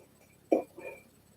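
A single close hiccup, a short sharp burst followed by a softer trailing catch, against a quiet background.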